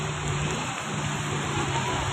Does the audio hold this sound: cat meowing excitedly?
no